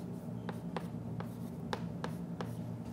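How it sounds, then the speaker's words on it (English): Chalk or marker writing on a board during a mathematics lecture, a series of short taps and strokes spaced irregularly over a steady room hum, with no talking. "let me write EJ"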